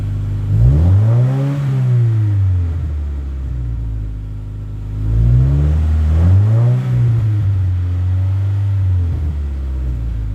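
A 2017 Subaru WRX with an Invidia R400 exhaust revs up twice, rising in pitch and falling back to a steady rumble between revs, fairly loud and close.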